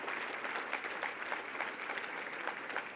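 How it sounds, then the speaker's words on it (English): A gala audience gives a round of applause, a dense, even wash of many hands clapping for about three seconds, moderately distant and without speech over it. "Please give a round of applause to Taha."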